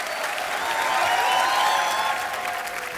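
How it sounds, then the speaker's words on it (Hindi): A studio audience at The Kapil Sharma Show, a comedy TV show, bursts into warm, sustained applause for about three seconds, swelling slightly in the middle, with no clear talk over it. "जोरदार तालियां एक बार।"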